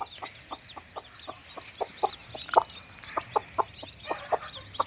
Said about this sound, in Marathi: एकतीस पिल्ले अशा पद्धतीने खात आहेत